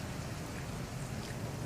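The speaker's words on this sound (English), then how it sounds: "the rain keeps coming" Steady rain falls outdoors in Covington, Virginia, during a live early-morning news report: a dense, even hiss of drops that is constant and close, with no talk over it.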